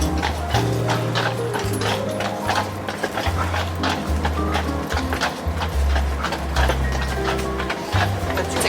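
Hooves of a horse pulling a carriage clip-clop in a steady rhythmic gait on a ride around a property near Dresden, close and clear, with rattling and creaking of the carriage mixed in.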